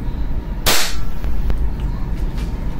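A single sharp, loud shot from an Army Armament Staccato R611 airsoft pistol during a velocity test, a crisp crack followed by quiet room noise and a couple of faint ticks.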